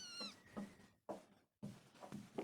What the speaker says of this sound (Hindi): यहाँ पे हमारे को बिल्ली मिल गई है।